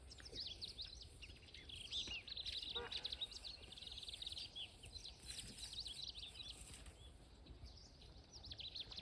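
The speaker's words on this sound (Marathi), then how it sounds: "बघा पक्ष्यांचा आवाज कसा येतोय बारीक" Small birds chirp and tweet faintly in open village countryside, with scattered high calls repeating over a quiet outdoor background.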